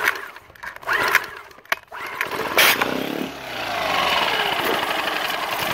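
A Tohatsu outboard boat motor, fixed after its carburetor had no gas, is rope-pulled, sputters and catches, then settles into a loud, close, steady running drone.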